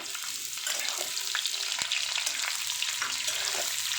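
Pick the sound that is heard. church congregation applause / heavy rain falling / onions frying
onions frying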